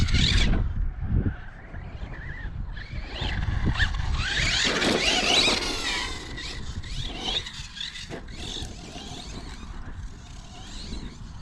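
KKPIT K One RC car with a small 13-tooth pinion, its electric motor whining and revving in bursts, mixed with tire scrapes and rolling noise on a surface, fairly close and fluctuating in intensity.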